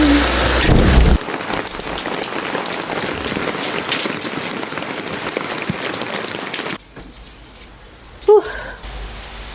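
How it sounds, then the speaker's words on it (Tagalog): Very heavy rain during a typhoon pours loudly and steadily, a dense roar on surfaces that drops abruptly to a quieter patter near the end, with a brief knock or clatter close by. "kasi nga sobrang lakas talaga ng ulan"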